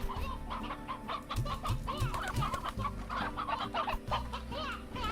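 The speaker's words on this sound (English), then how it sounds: "Elder hen. Old birds whose egg-laying days are over." An elder hen in the Slime Rancher video game clucks in quick, bubbling bursts, close and fairly loud over low background game ambience.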